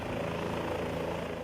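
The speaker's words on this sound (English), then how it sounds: "the choppers indeed are still hovering" Helicopters hover over the valley at Badrinath and Kedarnath in Uttarakhand, a dense, steady rotor and engine drone with a faint rapid chop, constant and fairly distant, with no voices.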